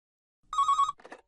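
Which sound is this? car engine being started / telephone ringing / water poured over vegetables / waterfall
telephone ringing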